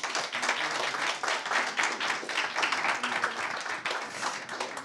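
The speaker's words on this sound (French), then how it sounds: "On peut les applaudir." An indoor audience applauds steadily, many hands clapping together without a break for about five seconds.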